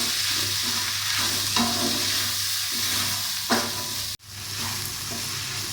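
Crushed green chillies and cumin sizzle in a hot pan while being stirred, a steady frying hiss broken by scraping strokes of the spoon, then a brief cut before the sizzle resumes.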